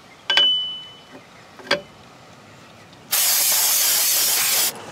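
Two short metallic clicks, then a loud, steady aerosol brake cleaner spray hisses onto rear brake parts of a 1998 Chevy Lumina for about a second and a half before cutting off.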